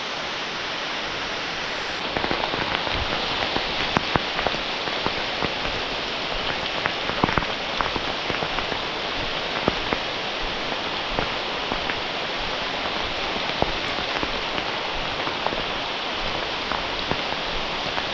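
Heavy rain pours down in a forest, a dense, steady hiss of drops on leaves and ground that holds for the whole stretch without a break.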